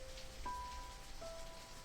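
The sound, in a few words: raindrops falling on a roof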